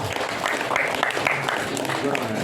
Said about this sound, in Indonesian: Tepuk tangan untuk santri Darul Hala